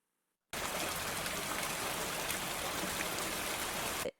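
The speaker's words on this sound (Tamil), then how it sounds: "மழை வந்துவிட்டது." Steady, dense rain falls after a moment of silence, a loud continuous broadband hiss that holds evenly for several seconds and then cuts off abruptly.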